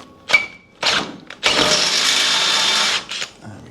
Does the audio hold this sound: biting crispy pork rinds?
no